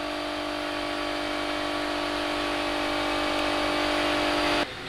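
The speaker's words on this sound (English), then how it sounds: "sorry about the compressor noise in the background" Air compressor droning steadily in a Lowe's store during a Halloween animatronics display, a loud continuous hum and whir filling the scene before cutting off abruptly at the end.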